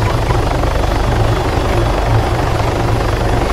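A helicopter in the video game Arma 3 Altis Life thunders loudly and continuously, its rotor chop steady and close with no pauses.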